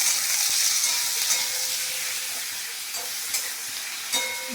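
Meat fries with tomato and capsicum in a pan, giving a steady, close sizzle with crackling and occasional stirring scrapes, loud and continuous with no talking.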